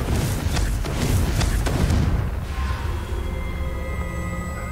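A Confringo explosive spell blast in Hogwarts Legacy, a loud booming burst with crackling debris through the first two seconds that then fades into a low rumble and ambient tones.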